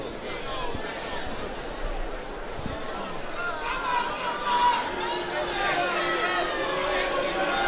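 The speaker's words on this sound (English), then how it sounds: "the crowd's making a little bit of a boo" Arena crowd at an MMA bout between Jon Jones and Carlos Eduardo lets out a low, swelling boo over a steady hubbub of chatter, growing somewhat louder toward the end.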